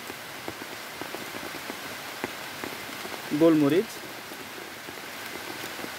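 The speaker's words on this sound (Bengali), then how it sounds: "যেহেতু বৃষ্টি চলে আসছে, আমি বৃষ্টির মধ্যে ভিডিওটা করতেছি" Steady rain falls outdoors over a rooftop garden in Bangladesh, a soft continuous patter that runs the whole time, with someone speaking briefly partway through.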